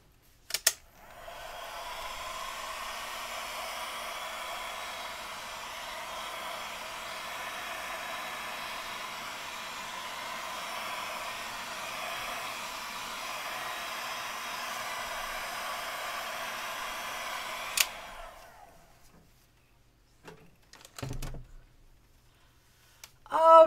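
A hair dryer blows a steady, even whoosh over freshly inked artwork in a craft studio for about sixteen seconds. It then switches off, and a few faint handling clicks and rustles follow.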